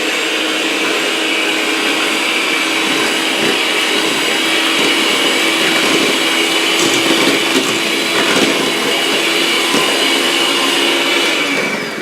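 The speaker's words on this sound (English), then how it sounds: "So I'm going to take my mixer, and on low I'm just going to kind of gradually mix this in." Electric hand mixer running on low through persimmon pudding batter, a steady, loud whirring motor drone held without a break, with faint scraping of the beaters against the bowl and no talking.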